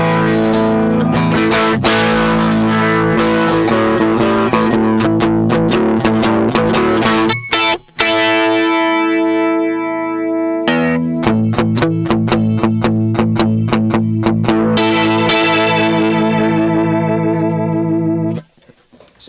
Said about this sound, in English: Let's move on to the Rocky Road spinning speaker.